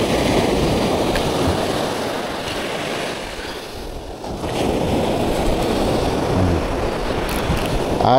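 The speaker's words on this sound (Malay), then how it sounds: "Ombak ini kasar sikit." Rough sea waves break and wash near a boat at a beach, giving a loud continuous roar and hiss that swells and eases slightly without pause.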